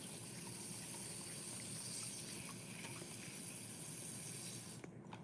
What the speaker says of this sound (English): Let's try to get more water right in there.